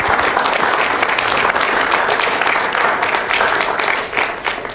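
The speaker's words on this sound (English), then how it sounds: "Let's give Connor a round of applause" Town hall audience in Hanover, New Hampshire applauding a questioner named Connor: dense, steady applause from a full room, sustained throughout and tapering slightly at the end.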